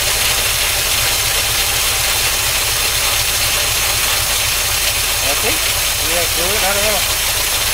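A 1953 Oldsmobile Rocket Super 88 barn-find V8 runs at a steady, loud, close rumbling idle throughout, with a few brief chirps near the end.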